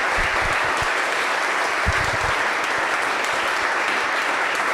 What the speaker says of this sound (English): give a round of applause to all of our county board candidates